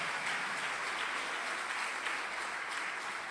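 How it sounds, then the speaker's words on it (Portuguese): A church congregation claps continuously in a steady, even wash of applause, fairly quiet and distant, with no clear voices on top. "Aplauda Jesus."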